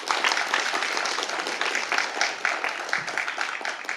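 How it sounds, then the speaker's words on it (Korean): An audience at a policy debate on childcare support applauds steadily, a dense wash of many hands clapping that holds for several seconds, with a voice faintly audible underneath. "다시 한번 뜨거운 감사의 박수를 부탁드리겠습니다"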